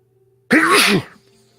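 A single sharp sneeze bursts out loud and close, lasting about half a second, then fades into quiet room tone.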